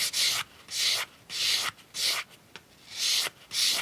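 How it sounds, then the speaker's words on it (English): Hand sanding a conical bolo tip with light grit sandpaper: about seven rhythmic back-and-forth rasping strokes, close and fairly quiet, with short pauses between them and no talking. "I'm going to give it a little hand sand with a light"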